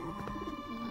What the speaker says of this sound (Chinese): 你看见没有窗外的那两只鸽子